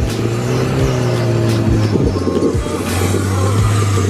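A Subaru WRX drifts sideways in snow, its engine droning steadily and close throughout with low, wavering pitch sweeps as the car slides, no voices over it.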